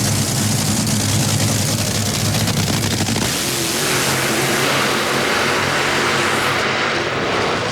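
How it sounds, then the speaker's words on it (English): Two drag racing cars do side-by-side burnouts at the 2004 NHRA U.S. Nationals in Indianapolis, giving a loud, harsh roar that drops after a few seconds to a lower, steady engine rumble. "Side-by-side burnouts"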